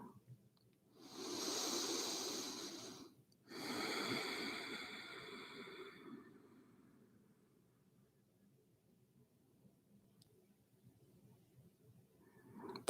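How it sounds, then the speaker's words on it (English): Slow, deep breathing during a yin meditation session, a long soft inhale-like rush, a brief pause, then a second long exhale fading into quiet room tone; no talking. "Breathing in and breathing out"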